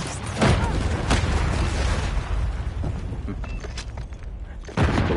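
Continuous rumbling explosions and booming blasts fill the clip, loud and dense, with sharp bursts near the start and end, from heavy combat in Call of Duty: Modern Warfare III (2023).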